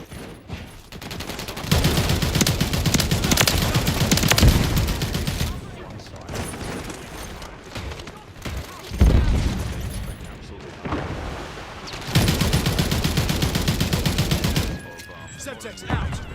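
Heavy gunfire rages in a Call of Duty match: several loud bouts of rapid automatic fire mixed with booming blasts, separated by short quieter stretches, with voices talking over the combat.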